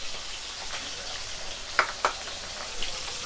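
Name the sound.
fish frying in a pan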